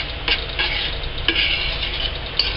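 Pumpkin juice soap batter is stirred in a container, with a loud, close swishing broken by several sharp clicks and taps of the utensil against the sides, and no talking.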